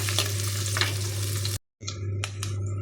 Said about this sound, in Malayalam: നമുക്ക് മെല്ലെ ഒന്ന് ഇങ്ങനെ ഇളക്കി കൊടുക്കാം